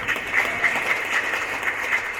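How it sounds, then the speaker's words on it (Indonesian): Audience applause at a university rector's inauguration ceremony, a steady wash of many hands clapping in a hall, sustained and moderately loud throughout without speech. "Mari kita tepuk tangan untuk"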